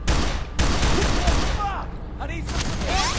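Enemy gunfire in the video game FEAR 3, a loud continuous rattle of shots with a few sharp bursts and whistling streaks, under faint voices.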